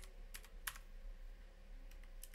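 A password being typed on a computer keyboard: a handful of quick, light key clicks in two short bursts, close and fairly quiet over faint background hum.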